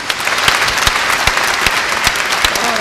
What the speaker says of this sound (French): applaudissement.